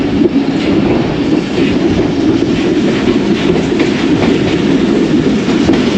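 101UP Subk Raftar passenger train running near Lahore, a loud, steady rumble with clickety-clack of wheels over rail joints, continuous and close throughout.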